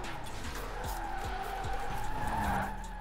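Car drifting in Forza Horizon 4, the tires skidding and squealing through a sustained slide over a steady engine roar, with tonal squeal sweeps rising and falling throughout.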